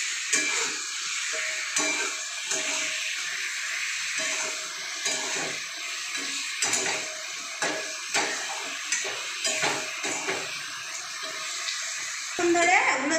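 Dried red chili flakes frying in a pan while being stirred: a steady close sizzle with repeated scraping and stirring strokes throughout.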